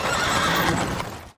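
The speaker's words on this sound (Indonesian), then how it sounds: "tiba-tiba saja kereta kuda Raja Ermiti datang ke TKP" A horse-drawn royal carriage pulls up as the horse lets out a loud, close whinny over clip-clopping hooves, the sound cutting off abruptly at the end.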